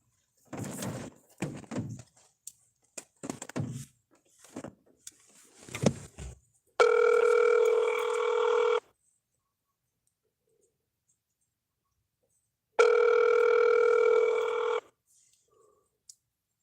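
A telephone line rings while a caller waits on a child welfare hotline, two long steady electronic ring tones separated by silence, preceded by clicks, knocks and rustling handling sounds nearby.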